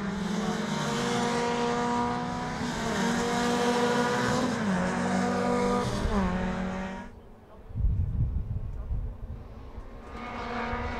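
Suzuki Swift rallycross race cars climb a hill, engines rising and falling through gear changes as they pass, loud at first then dropping away before another car approaches in the distance.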